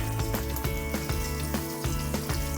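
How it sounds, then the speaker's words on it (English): Bacon frying in a greased skillet, a steady close sizzle and crackle running throughout with faint pops and no talking. "let that start frying down with a little grease"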